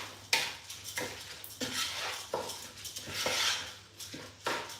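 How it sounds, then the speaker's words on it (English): Coconut rice is stirred and fried in a pot, a spoon scraping and knocking in repeated strokes over a soft steady sizzle, close and alone. "So I'm just going to keep on stirring now. So that I can kind of like fry the rice."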